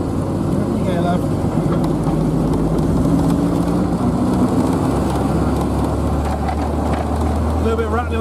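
A newly restored Triumph Spitfire is driven off on its first outing, its engine giving a steady, continuous drone with road and wind rumble throughout, moderately loud and close.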